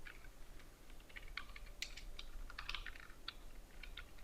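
Keys clatter on a computer keyboard in short irregular bursts of quiet, close typing, with no talking.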